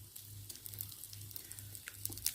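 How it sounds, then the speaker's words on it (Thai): Omelette crisping in olive oil over a charcoal stove, a faint, continuous light sizzle with soft crackles and no voices. "เจียวกรอบกรอบเลยจ้ะทุกคน"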